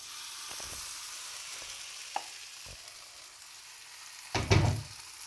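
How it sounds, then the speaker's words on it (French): Pancake batter hits a hot frying pan with a loud burst of sizzling near the end, after a few soft clicks and scrapes in a quiet kitchen. "tout petit peu le tout dans la poêle pour voir ce que ça va donner."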